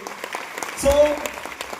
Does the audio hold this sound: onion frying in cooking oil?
no